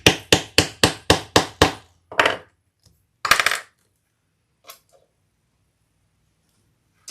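Leather punched with a number 4 hole punch: seven sharp, evenly spaced hammer strikes in quick succession, then a few looser knocks and one last heavy blow, close and loud with quiet gaps between.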